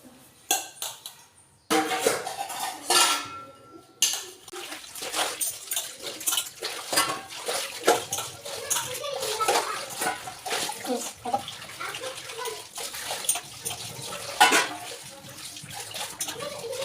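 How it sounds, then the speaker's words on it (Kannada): Dishes are washed in a kitchen sink, with running water splashing and pots and utensils clattering in irregular bursts, close and fairly quiet, after a short silent pause near the start. "5 ನಿಮಿಷಕ್ಕೆ ಪಾತ್ರೆ ತೊಳೆದ್ಬಿಟ್ಟೆ ನೋಡಿ."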